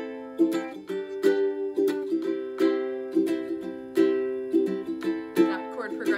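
Ukulele strumming a chord progression in a lively down-up pattern, bright plucked chords ringing clearly and close, alone without voices.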